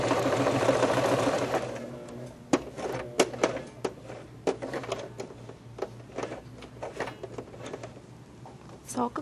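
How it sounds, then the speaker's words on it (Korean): A sewing machine stitches a seam around the edge of a knee blanket, running in a loud steady whir at first, then giving way to scattered mechanical clicks and taps while someone talks. "끝까지 쭉 돌아서 박음질 해주시면 됩니다"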